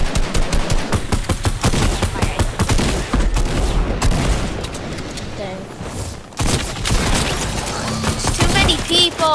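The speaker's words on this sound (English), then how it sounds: "there's people who shoot their rail guns" Rail gun and other weapon fire in a Fortnite Team Rumble match, loud and dense with rapid bursts and booms nearly filling the whole stretch, with brief game effects layered over it.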